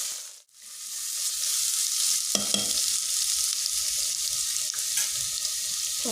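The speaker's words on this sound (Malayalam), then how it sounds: "ഇനി വലിയുള്ളി ഇടാം" Big onions fry in a pan with a continuous, close hissing sizzle that begins loudly right after they drop in, with a few clinking stirs of a utensil along the way.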